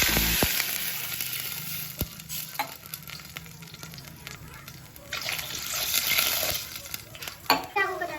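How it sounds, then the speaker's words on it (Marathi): Whole spices hitting hot oil in a pot for mutton paya dum biryani, a loud close sizzle and bubbling with splashes and clatter, swelling and fading across the clip, with no voices. "तर तेल गरम झाले आपलं त्यात खाडा मसाला टाकून देत आपण."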